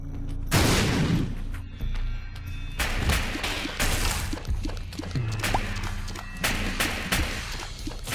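Bombs going off in The Binding of Isaac: Rebirth, several sharp booming blasts spaced a second or two apart, each with a crunchy tail, over quiet game background.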